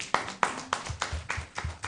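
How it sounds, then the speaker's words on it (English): Applause for a presenter at a national dialogue on inclusive social protection, heard as several sharp, fairly quiet claps in an uneven rhythm over about two seconds, close by and with no talking. "One more time, a round of applause for him."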